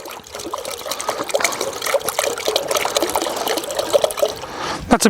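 Bottled water pours into an old camp billy pot outdoors, a close, continuous splashing trickle that fills the pot, ending with a few louder knocks.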